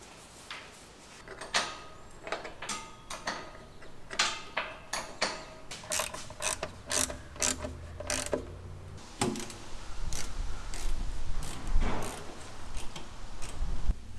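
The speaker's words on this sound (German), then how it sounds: "Jetzt müssen wir nur noch die Schrauben festdrehen." Screws being tightened on a van's roof rack, giving a quick run of ratcheting, clicking mechanical strokes in close succession, near and fairly crisp, with rustling handling noise and no talking.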